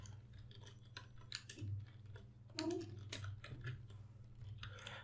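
Someone types on a computer keyboard nearby, giving quiet irregular clicks and taps against a low background hum, with a few slightly louder keystrokes scattered through.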